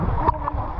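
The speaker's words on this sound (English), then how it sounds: "It's like a 50-meter waterfall." A 50-metre waterfall at El Questro Station on the Gibb River Road in Australia gives a brief, steady rushing roar of falling water, loud and unbroken.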